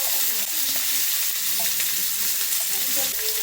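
Ingredients frying and being stirred in a blackened wok to make a paste, with a steady, close sizzle and scraping stir noises, no voices.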